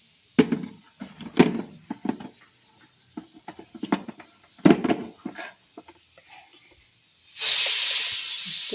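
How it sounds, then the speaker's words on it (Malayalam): Pressure cooker on a home kitchen stove: irregular knocks and clatters, then a loud sustained steam hiss bursting out near the end and continuing steadily. "കുക്കർ അടിച്ചുകൊണ്ടിരിക്കുന്നു"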